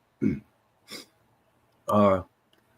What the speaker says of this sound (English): I'm starting to get a coughing spell